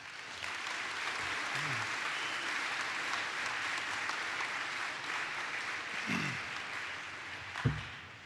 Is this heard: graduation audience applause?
yes